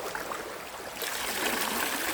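River water flows steadily beside a kubo, a continuous rushing wash that swells louder about halfway through, with no voices.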